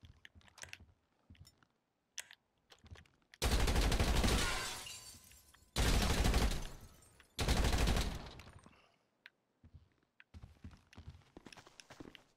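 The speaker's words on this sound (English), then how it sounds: "you can shoot your gun in here" Bursts of automatic gunfire in GTA 5 shoot out office windows in three long, loud volleys, with quieter scattered clicks and taps in between.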